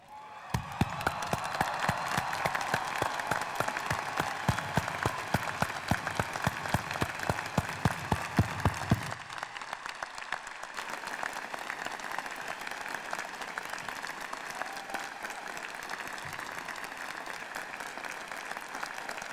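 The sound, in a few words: audience applauding the graduating class at a ceremony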